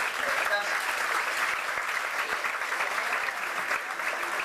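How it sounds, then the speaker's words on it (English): Steady, dense applause from a comedy-show audience welcoming comedian Louis Dixon, loud and continuous throughout with a crowd wash and no distinct voices on top. "let's give Louis Dixon a round of applause"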